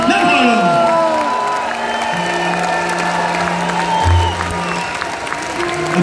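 Applause from a concert audience at a show, a dense wash of clapping with cheers and whoops, loud and sustained while music and voices continue underneath.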